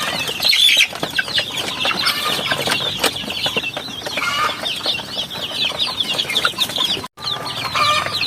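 Upgraded native chickens on a farm, a flock clucking and squawking close by with wing flaps, continuous busy chatter throughout with one brief drop-out near the end.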